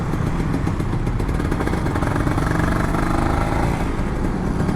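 A Kawasaki Ninja RR 150 motorcycle, an older two-stroke model fresh from a full service, runs with a loud, rattling engine note held steady and close throughout, with no talk.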